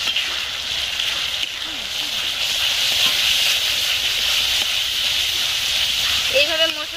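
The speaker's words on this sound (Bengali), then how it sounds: "এইভাবে মশলাটা ভালো করে কষে নেব।" Stone-ground spice paste with turmeric fries and is stirred in a pan for a chicken and kohlrabi curry, making a continuous bright sizzling hiss, with a brief voice near the end.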